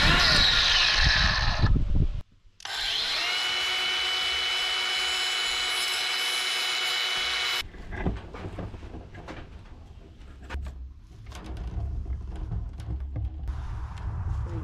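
An angle grinder used during a DIY chicken coop build gives a short burst, a pause, then a steady high whine for about five seconds that cuts off abruptly, followed by clattering handling noises and faint talk.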